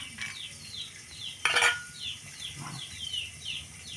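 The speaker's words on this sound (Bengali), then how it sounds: "তো এই আর কি, ভুট্টা ভাজা তেল দিয়ে" Corn kernels fry in oil in a rural kitchen with a soft sizzle, repeated light scraping of a utensil stirring the pan and one sharper clatter, all close and fairly quiet.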